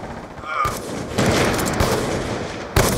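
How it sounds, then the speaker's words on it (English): Gunfire from the shooter game Black Ops II, dense bursts of shots that swell mid-clip and end in a sharp loud crack, with no one speaking over it. "Oh yes, El Jefe headshot."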